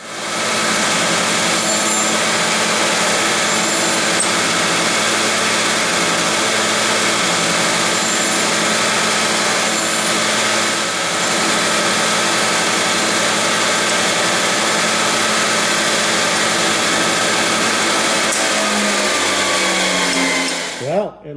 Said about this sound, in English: I'm going to grind the sides of the vise, and because it's pretty rough